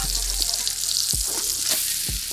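PB&J French toast sandwich frying in a pan, a loud steady sizzle throughout, with a few dull thumps and scraping knocks as the sandwich is flipped and handled.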